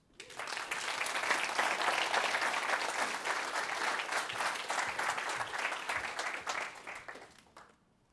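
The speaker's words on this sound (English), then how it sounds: "Now's the time to applause." Audience applause at a closing session of a tech conference, a dense, steady wash of clapping from a large crowd that swells quickly, holds for about seven seconds, then fades away.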